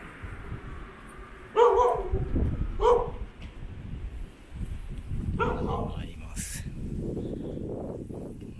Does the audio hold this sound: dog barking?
yes